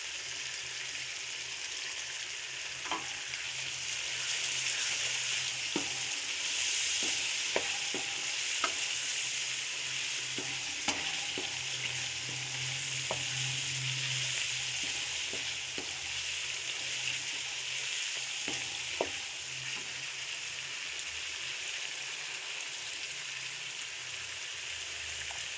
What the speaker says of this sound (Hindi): तीन से 4 मिनट भूनेंगे, मसाले हमारे अच्छी तरह जल्द हो जाए।